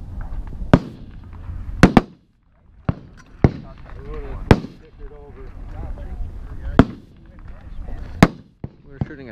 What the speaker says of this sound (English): We're shooting at target 53.